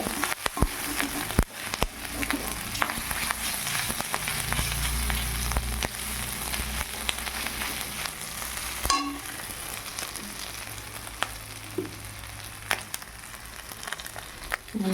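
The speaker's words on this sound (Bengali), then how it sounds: "ভালো করে একটু কষিয়ে নেব।" Potatoes being sautéed in a pan for aloo dum, a moderate steady sizzle with frequent stirring clatters and scrapes against the pan, close by, no talking.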